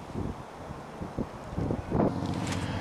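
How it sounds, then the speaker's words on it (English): Wind buffeting a microphone beside a lake while carp fishing, a steady rushing roar with gusty bumps and rustling, louder toward the end. "Wind's still picking up, it's getting chillier."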